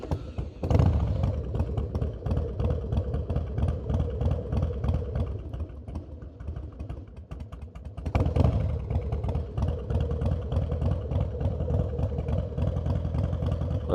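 A carburetted Harley-Davidson Softail Deuce V-twin idles unevenly as it warms up, a steady low rumble with a loose, lumpy beat. It carries on without pause, dips briefly near the middle and swells again toward the end.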